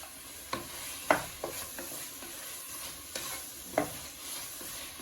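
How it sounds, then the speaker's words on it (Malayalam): Green chillies sautéed with chopped onions in a pan, heard as a soft sizzle broken by several sharp, irregular scrapes and knocks of a stirring spoon against the pan, close by, with no voices. "ആദ്യം പച്ചമുളക് ഇട്ടൊന്ന് നല്ലോണം വഴറ്റിയിട്ട് ബാക്കിയുള്ളത് ഇടും"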